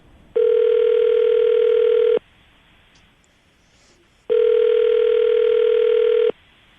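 Telephone ringback on an outgoing call, two long steady tones of about two seconds each separated by a pause, loud and clear with no talk over them.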